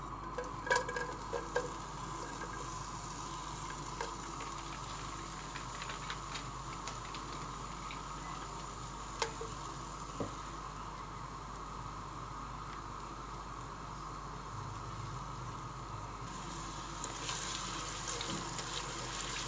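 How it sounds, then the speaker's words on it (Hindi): Two medium chopped onions fry in half a cup of oil for chana dal gosht, a steady soft sizzle running throughout with occasional faint stirring clicks, quiet and close. "अब मैं इसको डाल रही हूँ ऑयल में।"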